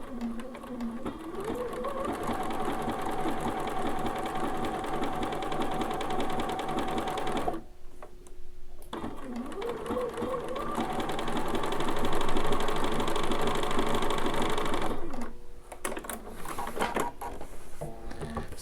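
A Bernina sewing machine fitted with a tailor tack foot runs steadily through fabric in long continuous bursts of fast, even stitching, broken by two short pauses, close and alone with no voices.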